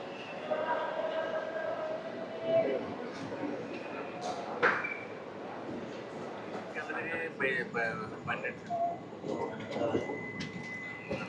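Tirupati–Allahabad express train pulling into Renigunta station, a continuous rumbling roll of wheels with squeals and clanks, under station chatter and voices throughout.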